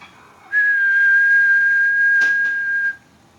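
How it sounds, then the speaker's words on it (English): A referee's whistle is blown once as the final whistle in a dice soccer game, a single steady, loud blast lasting about two and a half seconds with no other sound around it. "With that, the final whistle is blown."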